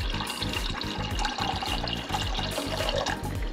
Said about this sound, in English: I'm gonna pour about half my coconut water in here.